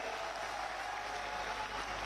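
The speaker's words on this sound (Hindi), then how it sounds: "जोरदार ताली बजाओ इस बात के लिए।" Applause from a crowd at an outdoor political rally in Badaun, Uttar Pradesh, a steady, dense wash of clapping that holds at an even level for about two seconds, moderately distant.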